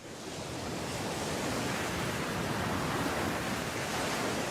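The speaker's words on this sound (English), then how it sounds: "Transitioning to ocean sounds." Steady roar of ocean surf, a continuous broadband wash of breaking waves, fairly loud and close, with no voices.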